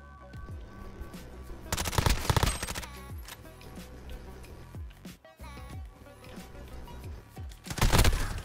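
Bursts of automatic gunfire from a weapon in Modern Warfare, loud rapid volleys in several separate strings with quieter gaps between them.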